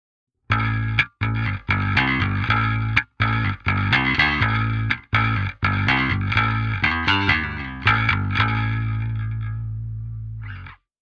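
Heavy distorted electric guitar through an amp simulator with two impulse responses blended, played as chugging palm-muted riffs with sharp stops, building into busier chords and ending on a sustained ringing chord.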